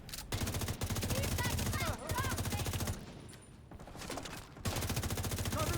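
In a video game, gunfire shoots at crates in rapid, steady bursts, loud and close, with a brief lull partway through.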